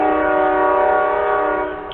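Train horn blasting in a single sustained, loud chord of several steady tones that holds for nearly two seconds before trailing off at the end.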